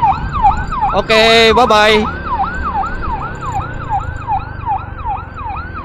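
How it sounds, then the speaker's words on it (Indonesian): An ambulance siren wails loud and close in a steady, repeating rise-and-fall cycle, while a voice briefly speaks over it and a vehicle engine rumbles beneath. "Itu ambulan rumah teduh, guys."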